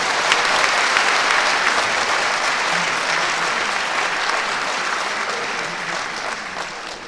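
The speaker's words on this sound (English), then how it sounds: "Can you give a big round of applause?" An audience at an end-of-year staff retreat award ceremony applauds loudly and steadily, a dense wash of clapping that fades slightly toward the end.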